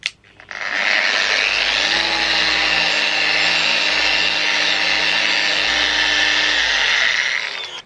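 A powered applicator buffs a car headlight with Autoglym headlight restoration compound, a steady loud whirring drone that starts after a brief pause and runs evenly for about seven seconds before cutting off, with no talking.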